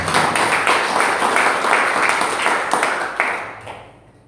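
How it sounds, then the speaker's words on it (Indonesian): Congregation applause fills a church, dense steady clapping from many hands holding for about three seconds before thinning and fading out. "Tepuk tangan dulu buat Tuhan."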